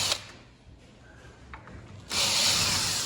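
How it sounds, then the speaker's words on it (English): A power drill backs screws out of a hinge on a historic wooden casement sash, with a quiet pause, small handling knocks, and then a steady close whirring run. "I take these screws out,"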